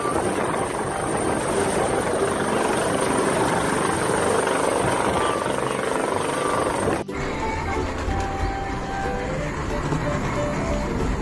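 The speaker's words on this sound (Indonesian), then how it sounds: "Ada helikopter." A toy helicopter gives off a loud, continuous whirring rotor drone with a roaring edge, steady throughout and briefly cut midway before resuming, with a voice speaking over it.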